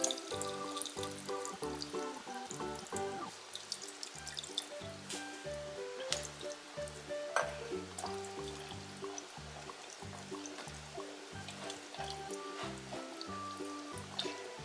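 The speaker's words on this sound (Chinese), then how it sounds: "然后我再加一点冷开水" Cooled boiled water trickles into a glass jar of pickling mustard greens, a soft continuous pouring and dribbling beneath steady background music.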